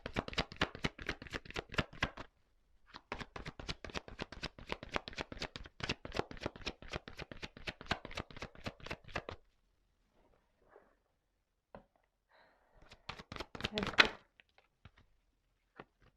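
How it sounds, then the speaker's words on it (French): Tarot cards drawn and handled from a deck, making rapid crisp clicking and riffling in dense bursts for several seconds, then near silence with scattered ticks before a final short flurry. "je prends une petite carte encore"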